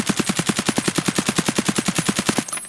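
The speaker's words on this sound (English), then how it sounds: "Now let's shoot from long range target while crouched" A suppressed AKM rifle fires a rapid, steady burst of about twenty evenly spaced shots in the video game Escape from Tarkov, loud and close, then stops abruptly.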